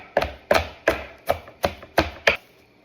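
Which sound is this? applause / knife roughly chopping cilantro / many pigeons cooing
knife roughly chopping cilantro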